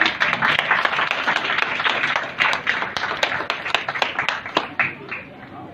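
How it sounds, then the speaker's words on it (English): Audience clapping at a university convocation ceremony in Kolkata, dense and lively with distinct sharp claps standing out, thinning toward the end, and some crowd voices mixed in. "The clap should not stop"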